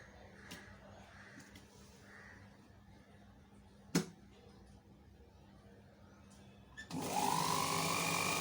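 A sewing machine stitches a strip of fabric, starting up near the end as a loud, steady whir after a quiet stretch with a single sharp tap midway.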